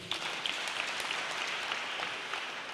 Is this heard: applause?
yes